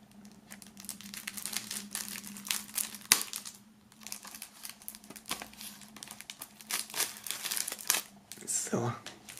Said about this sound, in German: bevor ich die Folie abmache